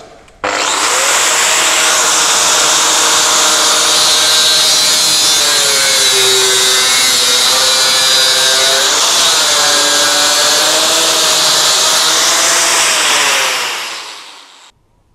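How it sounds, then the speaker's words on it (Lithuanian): An angle grinder with a disc grinds along edges, a loud, steady high-pitched whine with shifting tones that runs unbroken for about thirteen seconds before spinning down. "Gerai, statom diską ir einam šlifuoti."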